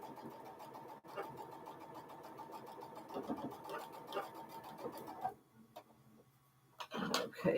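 Sewing machine chain piecing scrappy blue quilt blocks, a steady fast mechanical whir running several seconds, then stopping with a few clicks and handling noises.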